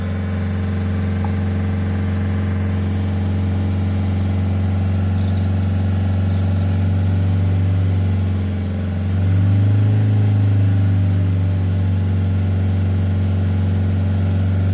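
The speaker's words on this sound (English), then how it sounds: "rev her up a bit" A Fiat Ducato camper van's diesel engine drones steadily at idle during DPF cleaning, then the revs rise briefly in a smooth surge before settling back into a deeper, louder hum.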